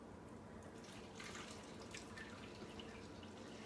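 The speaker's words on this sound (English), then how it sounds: "This is why you pour slowly, so it doesn't overflow and spill down the side of the bottle." Homemade laundry soap being poured slowly into a bottle: a continuous soft liquid trickle and gurgle with faint splashy bursts, quiet and close, with no talking.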